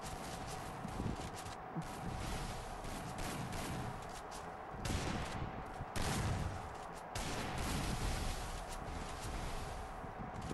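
Gunfire in the mobile battle royale game Free Fire, sustained bursts of rapid automatic shots crackling almost continuously at a steady loud level, with a few brief lulls between volleys and no clear voices.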